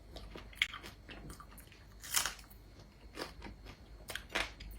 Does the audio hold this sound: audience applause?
no